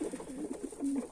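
Domestic pigeons coo in a steady run of low, throaty calls, fairly close and alone, with soft repeated phrases across the whole stretch.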